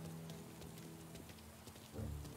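Steady rain hisses over a street in the Mafia 2020 remake, a broad continuous wash with soft scattered drops, joined near the end by a low rumbling swell.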